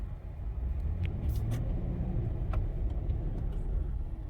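A Toyota 4Runner Sport Edition with a V8 and 4WD, in low four-wheel drive, eases forward in drive with a low, steady engine rumble and small clicks and knocks over it.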